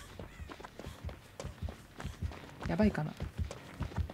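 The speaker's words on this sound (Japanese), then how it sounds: "なんか足音聞こえるんだけどマイケルじゃない？" Footsteps in Dead by Daylight Mobile thud in a steady, fairly quick rhythm at moderate loudness, while someone speaks briefly over them.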